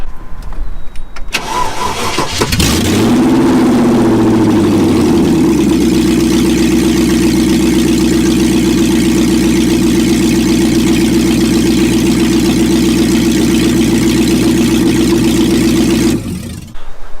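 A 1997 Land Rover Discovery 1 cranks briefly, catches and settles into a loud, steady idle that runs for about fifteen seconds before cutting off, close and with no talking over it.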